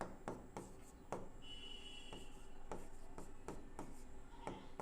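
Chalk or marker writing on a board during a Class 10 maths lesson, a series of sharp tapping strokes and scratchy rubs in an irregular rhythm, close and fairly quiet over a faint background hiss.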